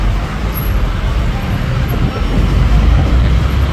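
Jeepneys and other traffic pass along a Davao road near SM City, a loud continuous engine rumble and road roar filling the whole stretch.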